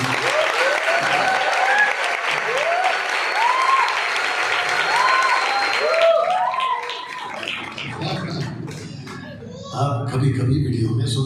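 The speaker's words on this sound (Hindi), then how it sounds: "आप ताली बजा सकते हैं।" An audience at a church conference in Ludhiana, Punjab applauds in a dense, sustained burst for about six seconds, then the clapping thins out while someone speaks over a microphone.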